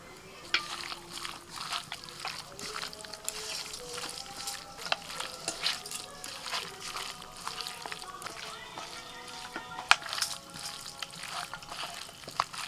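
Cumin powder, coriander powder, salt and mustard oil worked into a marinade by hand, giving a close, wet squelching and stirring with irregular slaps and taps, steady throughout with no talking.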